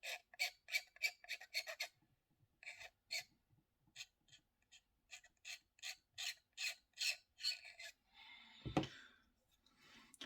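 Rhythmic rasping strokes of a sharp blade scraping the hard plastic of a 1/48 Meng F/A-18F model kit, a quick run of scrapes, a pause with softer strokes, then another steady burst close by.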